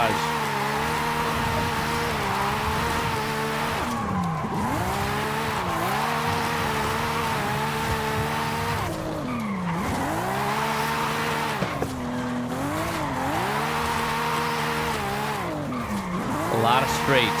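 A drifting car in Forza Horizon 5 wails its engine and squeals its tires without a break, the pitch dipping and rising through repeated slides while dodging traffic, loud and close throughout.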